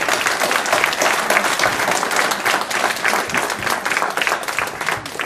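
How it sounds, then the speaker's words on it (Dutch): A loud, thunderous round of applause from an audience honouring a foundation's board, with dense continuous clapping that fills the room for over five seconds. "een daverend applaus te geven voor het bestuur van de stichting"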